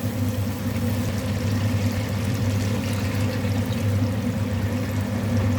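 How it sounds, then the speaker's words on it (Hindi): A cup of water pours steadily into aloo gosht curry in a cooking pot, a continuous close rushing and splashing flow with no talk over it. "तो यहाँ पर मैंने इसके अंदर 1 प्याला पानी डाला है"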